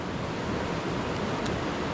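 A river on the Pacific Crest Trail rushes beneath a small wooden footbridge, a steady close roar of white water with no break and no voices.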